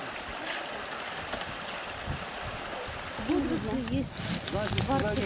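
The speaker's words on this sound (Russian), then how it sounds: "Мне нравится музыка весенних ручьев." Spring meltwater streams run along the Bruce Trail in late April, giving a steady broadband watery rush; in the last couple of seconds a person speaks nearby over the flowing water.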